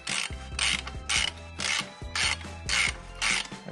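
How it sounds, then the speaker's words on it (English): A wrench ratchets in short, rapid clicking bursts while loosening a bicycle bottom bracket, six bright rasping pulls spaced evenly with brief pauses between, close and fairly loud with no talk. "we can re-unscrew the other side of our bottom bracket and take that off with our wrench"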